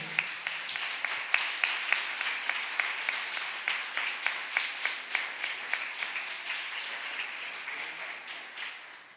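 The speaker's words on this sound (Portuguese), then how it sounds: "Quem crê, aplaude o nome do Senhor." A church congregation applauds in praise, many hands clapping in a steady, somewhat synchronized rhythm that slowly softens toward the end, with no speech over it.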